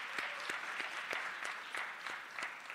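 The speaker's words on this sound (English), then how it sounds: "let's clap it up one more time for Dr." A small conference audience at a statewide justice and reentry event claps for a speaker, with steady, moderately dense applause at a distance and no talking over it.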